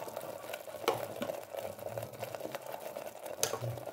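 Chicken masala cooking in a pan for salna, a steady soft sizzle with light scraping and stirring, close and fairly quiet, with no voices.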